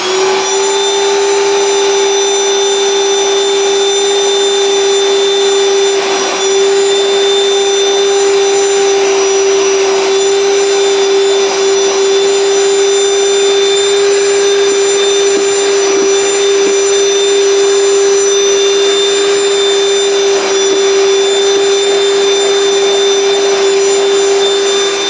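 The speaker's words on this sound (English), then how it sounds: "vacuum this side with Ryobi, this side with Dyson, and you can make your own mind up" A Ryobi 18V or Dyson cordless vacuum cleaner runs continuously and loudly, holding a steady motor whine with a strong tonal hum and no talk.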